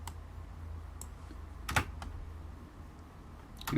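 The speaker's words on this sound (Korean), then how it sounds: "딜리트 키를 누르면은 삭제되고요" Computer keyboard keys are pressed while editing video in Filmora software: a few sparse, faint clicks over quiet room hiss, with no talking.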